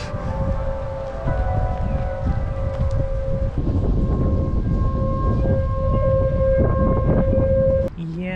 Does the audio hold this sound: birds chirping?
no